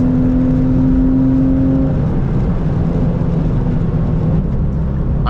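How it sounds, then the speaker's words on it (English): A 1999 Porsche 996 Carrera C2 engine drones loud and steady from inside the car on the drive up Angeles Crest Highway, holding a sustained tone that shifts pitch partway through as the revs change. "So today I'm driving my 1999 Carrera C2."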